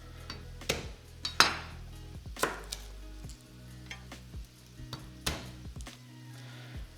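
Garlic chopped with a knife on a board, a run of sharp, irregular close knife taps spaced a second or so apart, with a faint background hum and no talking.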